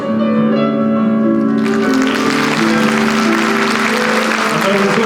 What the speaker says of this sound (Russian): Эти громкие и неумолкающие аплодисменты для вас.